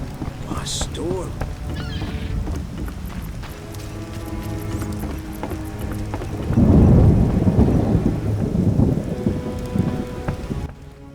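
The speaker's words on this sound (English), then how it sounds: "A storm." Rain and thunder from a storm in The Witcher video game: constant heavy rainfall with low rumbling thunder that swells into a louder, close roll midway before easing, no voices present.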